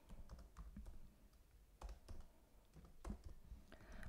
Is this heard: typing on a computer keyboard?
yes